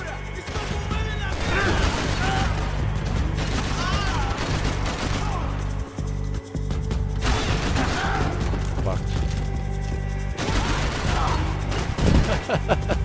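Rapid AK rifle fire in the video game Max Payne 3, dense bursts of shots running nearly the whole time over a steady game soundtrack, with someone talking now and then.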